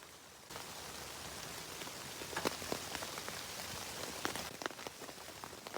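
Heavy snow falling on a nylon tent in winter, making a dense, steady patter like rain with sharper individual taps scattered through it, close and continuous with no voices.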